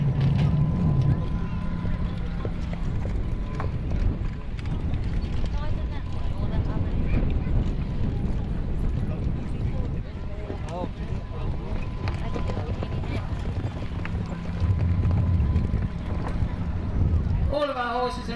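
Horse hooves clip-clop steadily on the ground as a horse pulls a carriage at a steam fair, with a speaker talking continuously over the hoofbeats and a busy outdoor crowd behind.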